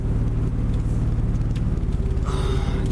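Car pulling away from a gas station, with a steady low engine rumble and road drone running throughout, close and fairly loud, and a faint hiss rising near the end.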